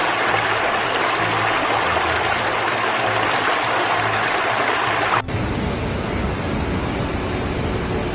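Floodwater rushes through Brienz, Switzerland, during a flash flood, a loud, unbroken roaring wash of water, with an abrupt cut partway through where the sound shifts but continues.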